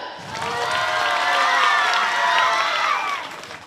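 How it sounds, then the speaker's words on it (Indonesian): A small crowd claps and cheers for a few seconds, with scattered shouts and voices mixed into the applause. "Mana tepuk tangan buat Komang?"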